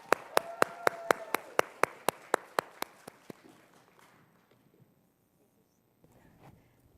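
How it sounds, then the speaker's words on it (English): Sharp, evenly spaced claps ring out in a quick rhythm at a wellness symposium on the UC San Diego campus, sounding like only a few hands, then thin out and fade to near silence. "If you can give me a big round of applause to welcome Angel to the stage."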